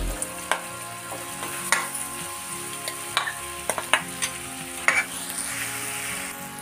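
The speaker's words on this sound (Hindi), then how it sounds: "अब इसमें ये जो छोले हमने अच्छे से बॉयल करके रखे थे उनको डाल देंगे।" Boiled chickpeas are stirred into hot oil with turmeric, with a low sizzle under a series of sharp spoon knocks and scrapes against the pan at an irregular pace.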